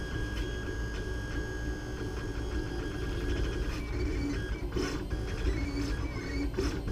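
A LulzBot Mini 3D printer whirs and ticks as its stepper motors shift the hot end and print bed into the cooling position after a print, a close, fairly quiet mechanical hum with small clicks.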